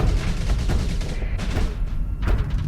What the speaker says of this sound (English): It's Reaper torpedoes.